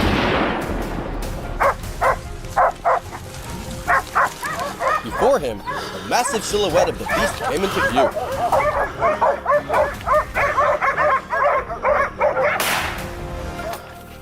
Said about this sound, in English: the sharp barks of the hunting dogs echoed loudly